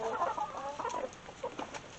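Backyard chickens and roosters cluck in short, soft bursts close by, a quiet scattered chatter of several birds with no talking.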